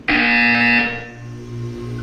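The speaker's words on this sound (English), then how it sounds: "You will hear a buzzer." A buzzer in the video game Portal 2 gives one loud, harsh tone lasting under a second, then fades into a low steady hum.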